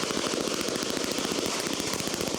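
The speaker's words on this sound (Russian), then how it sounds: "Тренировки по стрельбе проводятся, холостимся, отрабатываем различные упражнения" Rapid bursts of blank-round gunfire during military shooting drills, loud and continuous with dense overlapping shots and no talk.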